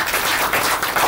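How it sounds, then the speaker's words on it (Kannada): An audience at an audio launch event breaks into brief, dense applause, a short wash of overlapping clapping that fills about a second. "ನಿಮ್ಮನ್ನ ಬರ್ಲಿ ಒಂದು ಜೋರಾದ ಚಪ್ಪಾಳೆ."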